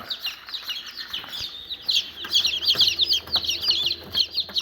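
Many newly hatched chicks peep in a busy, high-pitched chorus of rapid overlapping chirps, close by and fairly soft.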